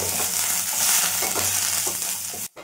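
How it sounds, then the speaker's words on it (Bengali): Chopped ginger and garlic frying in oil left over from deep-frying chicken pieces for chilli chicken give off a loud, steady hiss with faint stirring scrapes, cutting out abruptly near the end. "এবার একই তেলে আগে থেকে কেটে রাখা আদা রসুনটাও দিয়ে দিলাম।"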